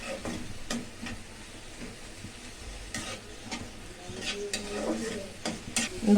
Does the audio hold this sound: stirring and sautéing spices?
yes